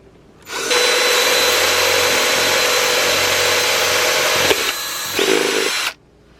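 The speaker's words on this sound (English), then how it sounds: "Now that you used your power tool" A power drill whirs loudly and steadily for several seconds, dips briefly, revs again, then cuts off into quiet.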